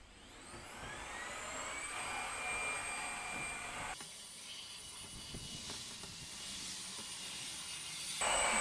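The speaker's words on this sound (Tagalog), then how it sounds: "Tapos, vacuum na tayo." A vacuum cleaner runs inside a car during a wash, a steady high-pitched motor whine with a dull roar beneath it. The pitch shifts slightly partway through and the noise swells at the end, with no talking over it.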